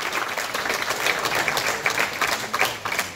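Sustained audience applause fills a business awards gala, a steady dense wash of many hands clapping at even loudness throughout, with no talking over it.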